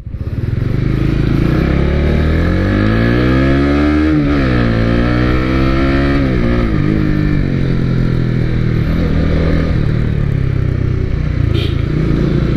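A Honda Winner X motorcycle rides along a road, its engine note loud and close, steadily revving up and down through gear changes with no voices.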